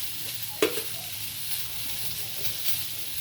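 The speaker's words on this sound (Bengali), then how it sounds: "সব সবজিগুলো দিয়ে আমি একবারই ভাজবো এখন ঢেকে ঢেকে ভাজছি" Mixed winter vegetables frying together in a covered pan, a soft continuous sizzle with one sharp clink of a utensil early on.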